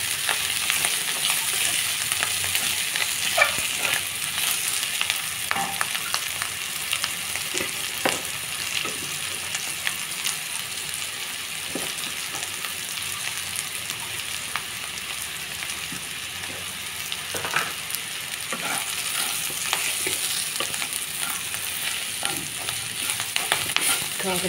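Bitter gourd pieces fry in a pan with a loud, even, rain-like sizzle lasting throughout, broken by light scrapes and taps as they are stirred, with no voices present.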